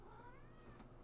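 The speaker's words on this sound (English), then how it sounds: "the meow's going on here" A cat meows with a rising, drawn-out cry lasting about a second, faint and distant under a low room hum.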